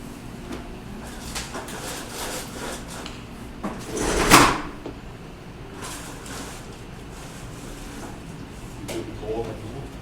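A door swung shut indoors during a seminar, one sharp bump at mid-point over a low air-conditioner hum, with a person talking before and after.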